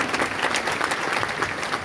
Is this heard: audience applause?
yes